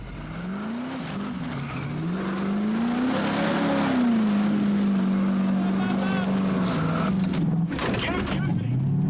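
Suzuki 4x4 with both lockers engaged climbs uphill at a timed winch challenge event in New Zealand, engine droning steadily and rising in pitch under strain, loud and close throughout, with people talking over it.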